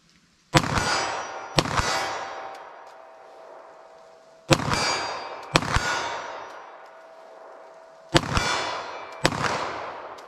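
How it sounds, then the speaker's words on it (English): Pairs of sharp 9mm handgun shots fired as double taps, three quick two-shot bursts spaced a few seconds apart, each crack loud and close with ringing decay. "let me see if I actually do a double tap, you know, what kind of speed I can do that at that kind of distance"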